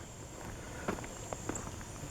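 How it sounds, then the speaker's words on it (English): Footsteps on an asphalt millings driveway make a few soft, gravel-like crunches, faint against steady insect chirping outdoors. "you can hear my footsteps. It's almost like a gravel"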